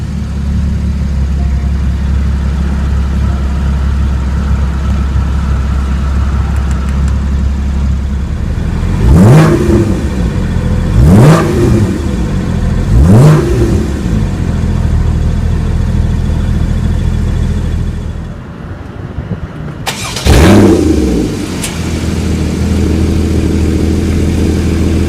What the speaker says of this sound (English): So to start up the car, just insert the key into the key ignition located on the left.